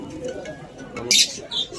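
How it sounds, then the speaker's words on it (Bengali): Teddy pigeons coo briefly in a close indoor coop with a short chirp-like burst, heard under a man's speech. "এই জোড়াও টেডি কবুতর"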